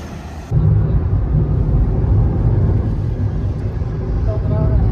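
CNG-powered car driving on a highway, heard from inside as a steady low engine and road rumble that starts abruptly and holds evenly to the end.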